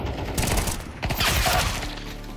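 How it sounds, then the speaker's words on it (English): Counter-Strike 2 gunfire tearing through boxes, a dense burst of loud close shots and cracking impacts packed into about two seconds, with no speech. "He shot me through the boxes with a headshot while running"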